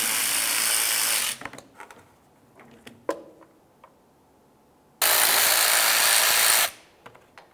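A ratchet wrench backs out T30 screws holding the cooling fan to the radiator on a Volkswagen Jetta (2011–2018), two loud, close bursts of rapid clicking separated by softer metallic clinks and taps.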